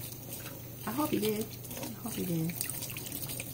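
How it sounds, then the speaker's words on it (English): A kitchen tap runs while dishes are washed in a sink, a steady soft hiss of flowing water with occasional splashes beneath a person speaking nearby. "I'm washing dishes. You can hear the water running in the background."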